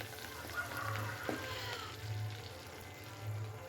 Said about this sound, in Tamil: கருவேப்பிலை இது ரெண்டையும் போட்டுக்கோங்க. கொஞ்சம் அதை வணக்கி விடுங்க வேகிற அளவுக்கு.